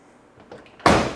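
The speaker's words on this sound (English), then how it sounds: "Door shuts real good." A car door on a 1968 Mercury Cougar XR7 swings shut with one solid, loud thump, preceded by faint handling noises and followed by a short decaying rattle.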